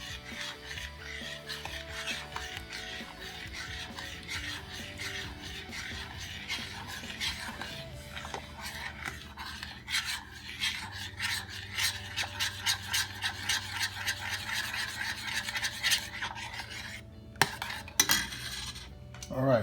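A spoon stirs Cajun seafood butter sauce with Worcestershire sauce in a pot, giving a steady rasping, scraping rhythm against the metal that turns into quicker repeated strokes, close and clear with no talking.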